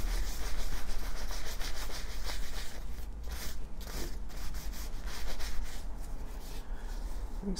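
A cloth rubs finish onto tooled leather in circular strokes, producing a continuous close scrubbing and swishing with rhythmic dips and no voices.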